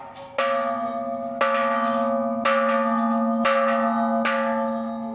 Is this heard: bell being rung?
yes